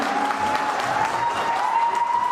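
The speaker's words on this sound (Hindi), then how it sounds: "एक बार जोरदार तालियां हो जाए" Audience at a company dealer and distributor award function applauds loudly and steadily, a dense burst of clapping from a crowd that fills the whole stretch with no voices on top.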